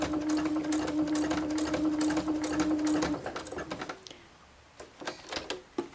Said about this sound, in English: we're stitching in again about 1 millimetre, maybe 2 millimetres in from the edge, and we want a couple of stitches to secure